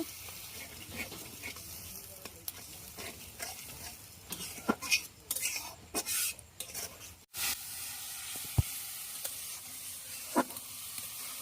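Ground spices, including turmeric and salt, sizzle loudly in hot oil in a pan, with a utensil scraping and clinking steadily as it stirs. A village kitchen setting, a continuous busy frying hiss with no voices.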